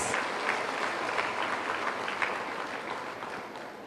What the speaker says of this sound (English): We request the public to give a round of applause to the graduates and their